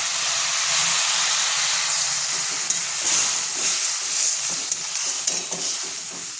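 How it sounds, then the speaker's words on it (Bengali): Spices with chopped tomato, slit green chili, cumin powder, sugar, salt and a splash of water sauté in a pan for a Bengali katla fish curry, a loud steady sizzle close up with intermittent stirring scrapes. "এবার এটা একটু কষিয়ে নেব"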